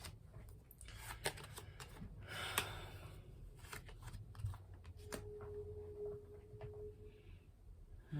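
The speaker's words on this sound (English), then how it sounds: "I'm going to go ahead and shuffle this one more time" Soft, irregular riffling and flicking of tarot cards being shuffled close by, scattered papery taps and brushes, with a faint tone humming briefly near the end.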